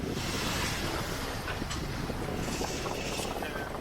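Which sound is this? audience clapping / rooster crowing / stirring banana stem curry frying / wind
wind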